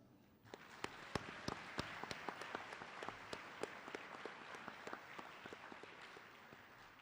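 An audience at the Hawaii State Science Fair breaks into applause. The clapping is moderately distant and steady, with sharper individual claps standing out for several seconds.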